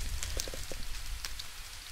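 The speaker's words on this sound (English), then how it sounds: "Yeah, it's raining" Rainfall in the TerraFirmaCraft video game, a soft steady hiss of falling rain with scattered small droplet ticks, heard quietly and with no one talking.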